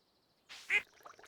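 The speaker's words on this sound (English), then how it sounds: "Oh, there's our goose." A single short honk from a goose in Stardew Valley, quick and fairly close, followed by a faint rustle.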